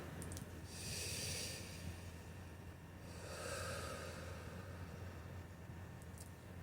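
A slow, deep inhale through the nose during a meditation exercise, soft airy rushes rising and falling twice, close and quiet with no other sound.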